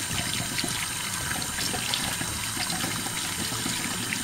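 Cooked rice is rinsed under running water in a colander, a steady broadband rush and trickle with faint splashing throughout, fairly close and with no talking.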